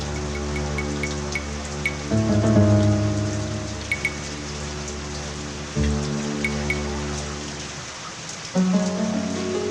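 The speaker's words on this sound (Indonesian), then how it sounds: "Niscaya, Nuh bersama pengikutnya akan tenggelam oleh air hujan" Steady rain falls throughout with a dense hiss of drops, while a sustained musical drone shifts underneath it.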